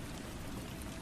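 Steady rain falls alone in a quiet night-time setting, a soft, continuous broadband hiss with a low rumble underneath and no voices.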